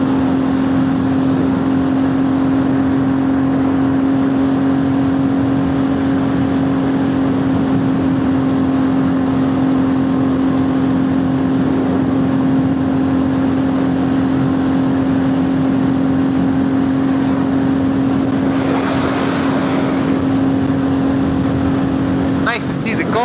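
A Royal Enfield Classic 350 motorcycle held in fourth gear thrums steadily at constant revs under heavy wind noise, with an even drone throughout and a brief gusty swell near the end.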